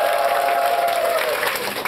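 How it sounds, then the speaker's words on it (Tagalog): An audience at a sales training seminar claps together after a count of three, a continuous wash of many hands with faint cheering mixed in, steady and fairly loud throughout. "Tapos pag pumalakpak ka,"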